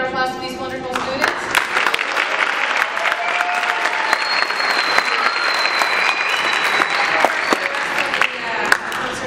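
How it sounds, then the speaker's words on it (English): A concert audience applauding students at a school fundraiser concert, starting after a closing musical chord and swelling into sustained, fairly close clapping with a few sharp individual claps standing out. "A round of applause to these wonderful students."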